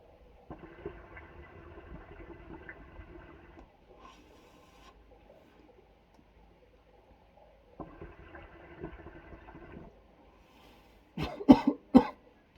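A few harsh coughs after smoking Tumbaki Dolce Giallo hookah tobacco burst out near the end, following quiet stretches of soft rustling and faint bubbling.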